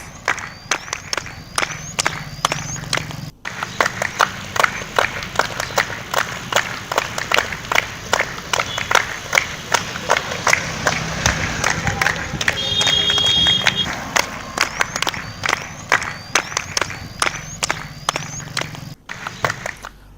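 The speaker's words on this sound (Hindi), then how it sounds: "लोग डॉक्टरों का अभिनंदन करते नजर आए, उनका हौसला बढ़ाते हुए नजर आए ताली के साथ" People outside the AIIMS colony clap and cheer for doctors, a long run of sharp rhythmic hand claps from a crowd with shouts and whistles mixed in, swelling louder midway.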